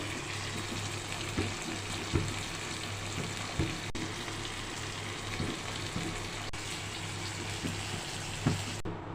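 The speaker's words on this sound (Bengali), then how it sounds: "ইচা মাছগুলো নুন হলুদ দিয়ে দেখো ভাজা হচ্ছে" Small shrimp (icha) fry in oil with salt and turmeric, a continuous close hissing sizzle with occasional soft stirring knocks.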